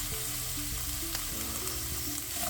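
Parsnips and carrots sizzle in hot ghee with onions in a pan, a steady close frying hiss with faint scraping, no voices.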